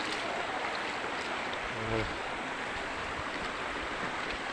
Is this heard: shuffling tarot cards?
no